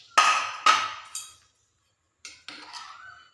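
A metal lid lifted off a pot of freshly cooked rice for payasam, giving two sharp clanks close by, a lighter clink, then after a pause a softer scrape and metallic rattle.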